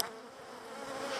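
A dense, steady buzz of Norman honeybees swarms continuously and close by, thick and unbroken for the whole stretch, with no voices.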